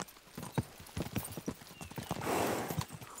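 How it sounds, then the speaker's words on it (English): Horses gallop in the video game Kingdom Come: Deliverance II, with steady, rhythmic clip-clopping hoofbeats close by, a brief rising whinny-like swell in the middle, and no talk. "We should spur the horses on."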